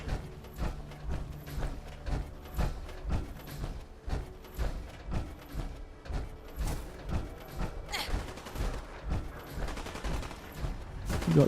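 Alien Blaster gunshots in Fallout 4, fired against ghouls: a long run of fairly regular rapid shots with pulsing energy blasts over game ambience, with a brighter burst near the end.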